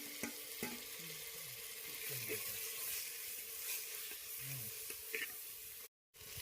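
Onion, tomato and ginger garlic paste sautéing for a village-style country chicken curry give a continuous low sizzle with faint scraping stirs and light clatter, steady and close, cut by a brief silence near the end.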